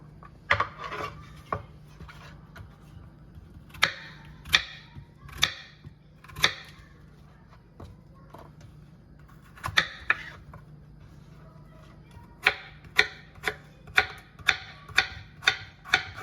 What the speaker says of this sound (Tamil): பெங்களூர் கத்திரிக்காயை பாக்ஸாக கட் பண்ணிக்கணும்